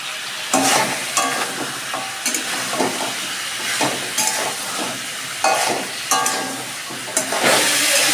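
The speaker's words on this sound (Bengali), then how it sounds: "আমি মশলার সাথে আলুটাও একটু কষিয়ে নিচ্ছি।" Potatoes frying with spices in a pan for a rohu fish curry, a close sizzling hiss broken by regular spatula scrapes and stirring strokes.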